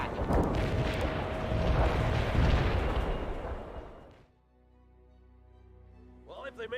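Artillery firing in the World in Conflict strategy game sounds as a heavy, rumbling barrage that swells for several seconds, then tails off into a lingering low drone with a faint sharp sound at the end.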